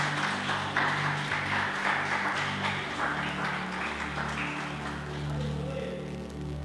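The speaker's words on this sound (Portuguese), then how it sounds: "Vamos aplaudir o Senhor Jesus." Applause from a church congregation, a continuous patter of clapping at moderate distance beneath organ or keyboard tones and a voice speaking over it.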